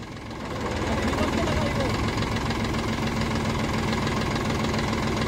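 A three-cylinder 40 hp tractor pulling a 7-foot rotavator, its engine running at a steady loud rumble with a rhythmic knock, rising slightly at the start, with speech over it.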